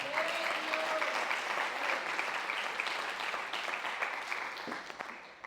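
A church congregation breaks into sustained applause as an offering of clapping, dense and steady hand claps that gradually thin and fade toward the end.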